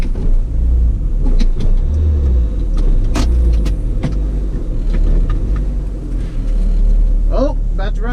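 A Mitsubishi Galant VR-4 idles and rumbles at a drag strip test-and-tune day, a steady low engine drone with occasional sharper mechanical bursts and some background activity.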